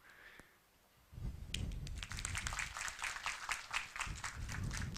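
Audience at an Indian Army quiz event breaks into applause after a quiet start, with dense, rhythmic clapping that stays close and loud until the end.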